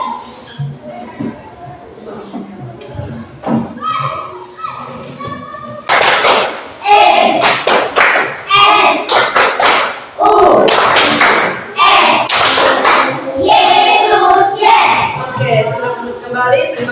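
Children in a classroom game clap their hands in repeated loud bursts of sharp, rhythmic claps mixed with children's voices and an adult speaking, starting quietly and growing dense after a few seconds.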